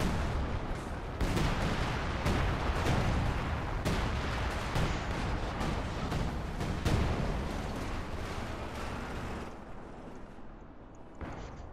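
Artillery barrage in the real-time strategy game Company of Heroes 2, a dense continuous rumble of heavy booms and gunfire with repeated loud impacts, sustained for several seconds before tapering off.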